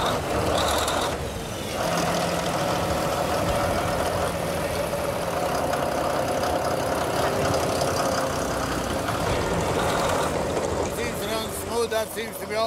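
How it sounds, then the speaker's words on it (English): A pump engine jump-started with a pipe layer on a gold mining site settles into a steady, loud idle, its continuous drone running throughout alongside other heavy machinery, with voices talking over it. "Engine is beautiful. Sounds way nicer than the other one."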